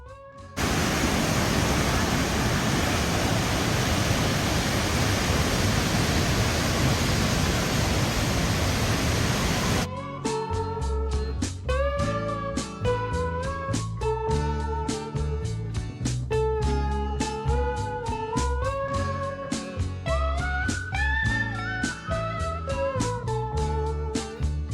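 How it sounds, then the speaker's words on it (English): Athabasca Falls in the Canadian Rockies roars as it pours into a narrow canyon, a loud, steady broadband rush for about ten seconds before music takes over. "Athabasca Falls is the closest stop to Jasper and is another dramatic waterfall."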